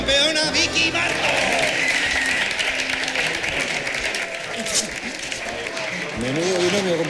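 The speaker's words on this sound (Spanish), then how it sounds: "Y un fuerte aplauso para nuestra campeona Vicky Marco." Audience applause for a champion at a televised Spanish event, a steady wash of clapping from a crowd with voices and music-like tones mixed underneath throughout.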